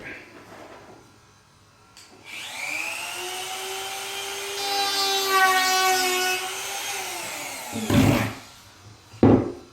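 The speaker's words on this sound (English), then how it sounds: "But it's MDF, so it's fairly easy to sand, and off we go." A power sander runs over an MDF platform bed frame. It spins up into a droning whine that holds for several seconds and then winds down, followed by a couple of loud knocks, with no speech.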